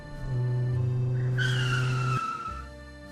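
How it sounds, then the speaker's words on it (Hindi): Car pulling over and stopping at the roadside, a loud close engine and tire squeal that cuts off abruptly as the vehicle halts, followed by a low idle. "ड्राइवर काका, जरा गाड़ी साइड में रोक दीजिएगा।"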